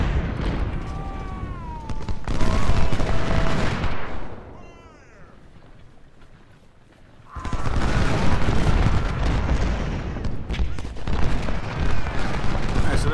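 Infantry musket gunfire from a Civil War battle in Ultimate General: Civil War sounds as dense, booming volleys crackling over one another, loud and sustained, dropping to a quieter lull before another heavy burst; a voice talks through parts of it.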